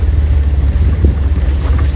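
A boat out on open water near a rocky island, heard as a loud, constant low rumble mixed with gusty wind buffeting the microphone, with no one speaking.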